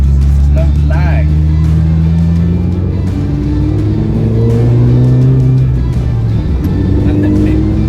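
Supercharged Mini Cooper R53 track-spec engine pulling hard through the rev range, its pitch climbing steadily and loudly with a whining drone, while a person talks over it.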